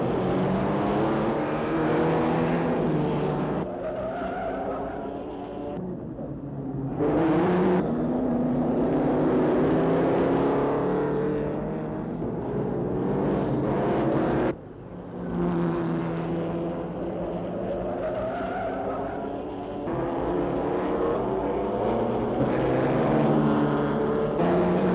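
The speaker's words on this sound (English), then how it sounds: "When the cars roar past on the banking and the going is fast and furious" Racing cars roar past on the concrete banking at Brooklands, a loud continuous engine drone that swells and fades as each car sweeps by, with brief dips between passes.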